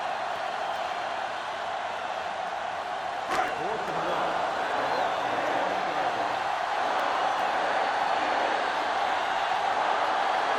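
Stadium crowd noise from a college football video game forms a dense, steady roar throughout, with a brief sharp spike early on and a voice talking under it.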